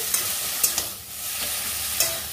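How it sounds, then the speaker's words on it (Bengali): Taro leaves being stirred and fried in a pan over raised gas heat, a steady sizzle with sharp scraping strokes of a spatula at irregular intervals, close and alone with no talk. "একটু গ্যাস বাড়িয়ে এই যে নেড়ে চেড়ে কষিয়ে নিলাম"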